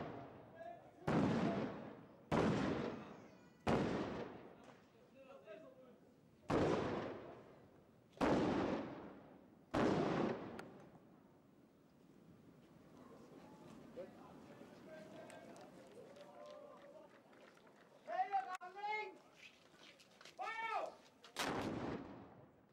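Historic cannons fire in a military reenactment at Königstein Fortress above the Elbe valley: six loud booming shots at steady intervals of about two seconds, each rolling away, then crowd murmur, cheers and one final blast.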